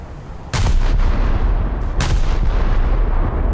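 Scharnhorst battleship main guns fire heavy salvos at a Sverdlov cruiser in a naval video game: two loud, booming broadside blasts about one and a half seconds apart, each trailing a rumbling roar over steady engine and sea noise, with no voices.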